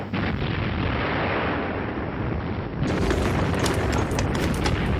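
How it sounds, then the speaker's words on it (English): Artillery bombardment sound effect played during a Bolt Action tabletop wargame, a dense, continuous rumble of heavy booms and blasts that swells louder partway through, filling the whole stretch without talk. "Bombardment's coming in."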